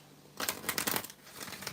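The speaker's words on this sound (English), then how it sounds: "One more shuffle and we'll get started." A close, quick riffle of tarot cards being shuffled, a short burst of crisp flapping followed by softer settling.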